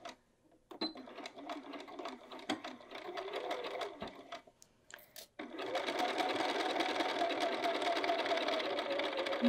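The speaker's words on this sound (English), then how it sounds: "I'm going to start sewing right from that edge, and I am going to back tack." A sewing machine stitches the body seam of a field bag at a French seam, starting with short bursts and back tacking, then running in a steady, close, continuous whir for several seconds.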